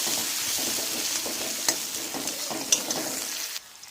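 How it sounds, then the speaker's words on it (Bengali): Chopped onion and green chilli sizzling in hot oil in a pan while a spoon stirs and scrapes steadily, a close, continuous hiss with light scraping clicks that cuts off near the end. "ওর মধ্যে পেঁয়াজ দিলাম আমি পেঁয়াজটা দিয়েছি নিয়ে নাড়তে থাকবো"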